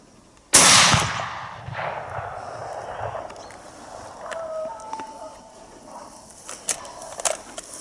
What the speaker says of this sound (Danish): Det er godt, at man har skudt lidt højt